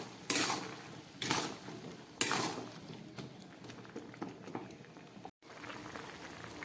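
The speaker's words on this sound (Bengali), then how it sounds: "তরকারিটা একদম ফুটছে" A vegetarian vegetable curry with cumin and chilli powder bubbling in a pot, a low continuous simmer broken by a few sharp clattering knocks early on, with a brief dropout near the end.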